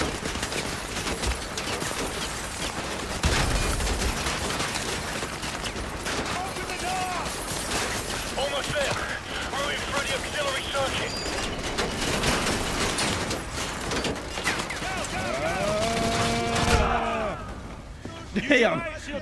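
Gunfire from a firing squad in Call of Duty: Modern Warfare 2, set in a gulag, comes as dense rapid bursts and clattering impacts throughout, with voices talking over the shooting.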